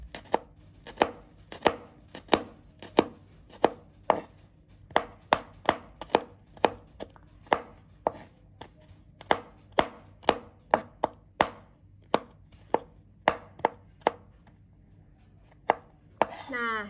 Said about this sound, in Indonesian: Lalu kita iris juga bawang putihnya.